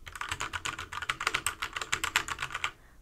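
Rapid typing on a Nixeus Moda mechanical keyboard with Kailh brown switches, close and clicky, with a continuous flurry of keystrokes for about three seconds before stopping.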